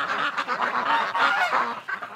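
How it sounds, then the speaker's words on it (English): Geese shut in a shed on a winter duck farm honk in a dense, overlapping chorus, a steady stream of nasal calls heard from outside, moderately loud and without pause. "You can really hear the geese in the shed when they hear all the noise out here"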